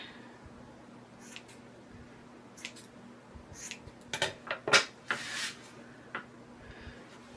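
Scissors trimming the fluffy trim of a Santa hat ornament make a few quiet, scattered snips and rustles in a hushed room, clustered in the middle of the clip.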